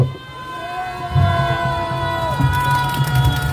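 A crowd at a Korean doctors' association protest rally against the medical school quota increase cheers and claps over a steady hum and amplified tones, loud and continuous.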